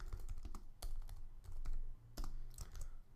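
Code being typed on a computer keyboard, scattered key taps and short clusters of clicks, fairly quiet and close, with no speech.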